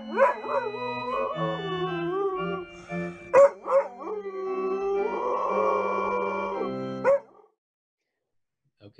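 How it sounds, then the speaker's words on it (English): A dog howling along to the Wedding March, drawn-out wavering howls with a few yips over the music, close and clear, ending in silence. "I have a video of Checkers howling to the Wedding March in its original form"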